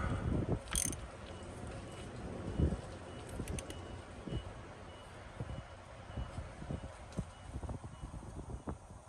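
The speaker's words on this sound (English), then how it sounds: "when you use your turning tool, you'll bore the motor over" A Paccar MX-13 diesel engine in a Peterbilt is turned over by hand with a turning tool outdoors, giving repeated faint ratcheting clicks and mechanical clunks spread irregularly across the stretch, with no voices.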